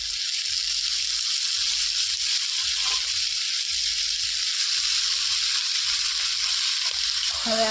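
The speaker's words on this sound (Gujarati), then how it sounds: "હવે નાખી દઈશું આપણે મીઠું, હળદર, કરી નાખીએ મિક્સ કરી ભાજી." Fenugreek greens with salt and turmeric are stirred in a hot pan, giving a steady, close hiss of sizzling throughout, with soft low thumps and faint talking underneath.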